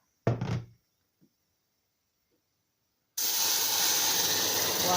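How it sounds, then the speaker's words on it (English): Hot water pours into a homemade slow magic cooker, a steady hissing splash that starts abruptly after a brief knock and near silence and continues loud and close to the end. "And we put 2 full cups of water, hot water."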